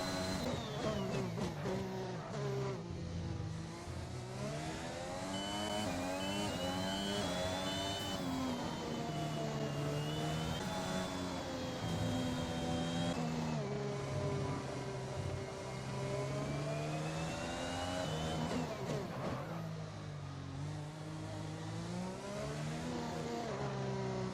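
A Formula 1 car in F1 2021 screams through a qualifying lap, its engine note rising and falling steadily with gear changes, loud and continuous throughout with no talking.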